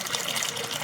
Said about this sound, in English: Splashing too much water.